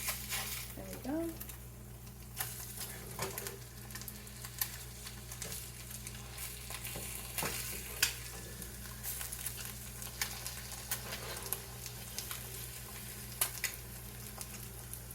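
Food frying in a pan on the stove, a steady close sizzle with occasional light clinks and stirring scrapes over a low background hum.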